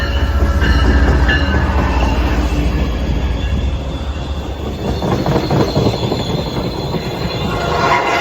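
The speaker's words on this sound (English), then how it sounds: "Train approaching. Please remain behind yellow line." A train pulls into a station in Mansfield, its wheels squealing loudly and steel clattering over the rails, a rumbling, close pass with a station announcement voice near the start.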